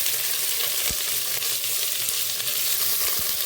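Chopped onions fry in hot oil with whole cardamom and cumin, giving a steady, close sizzle with a few soft stirring knocks.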